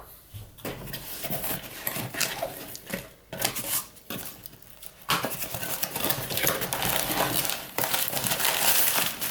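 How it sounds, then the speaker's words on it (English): Paper wrapping torn off a package by hand, close and crisp, with crinkling rips in several bursts separated by brief pauses and then steadier rustling, no talk. "since this is wrapped in some kind of paper, I'll just tear it off"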